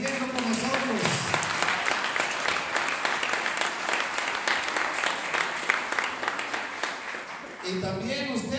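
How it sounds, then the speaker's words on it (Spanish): A church congregation gives strong, sustained applause, with a dense crowd of clapping hands that holds steady for several seconds. A voice speaks briefly at the start and the end. "dale un fuerte aplauso a todos los ángeles y santos del cielo"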